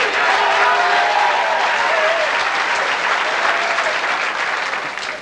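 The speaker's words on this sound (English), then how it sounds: "Give him a round of applause." A TV game show studio audience claps loudly and steadily for a contestant, a dense, sustained burst that slowly tapers off near the end.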